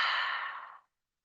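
A single long exhale of breath through the nose during a yoga group class, close and clear, fading out after nearly a second into silence.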